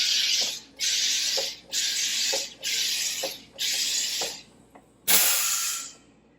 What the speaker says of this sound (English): you just push your button, and it basically just carbonates your tap water for you